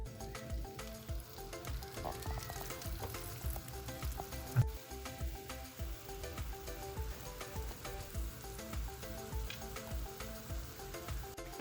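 Sweet potato slices fry steadily in a pan with a dense, continuous sizzle and scattered crackles, close and even throughout, with no talking.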